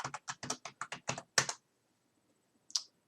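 Quick burst of keystrokes on a computer keyboard as a password is typed, about ten close, crisp clicks in a fast run, then a pause and one final isolated keypress.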